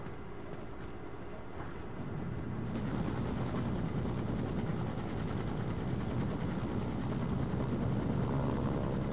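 Helicopter in Mercenaries: Playground of Destruction, a continuous rotor thump and engine drone that swells louder after a couple of seconds and then holds steady, close by with no voices.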